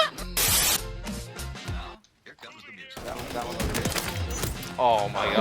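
Shotgun blasts in Call of Duty MW3 or BO6 hardcore Search and Destroy, loud close booming shots in quick bursts with a brief lull between, mixed with game effects and players talking excitedly.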